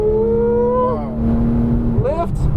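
A Porsche GT3 engine accelerating hard on a racetrack, heard from inside the car as loud, rising revs with a quick shift between them, while an instructor talks over it.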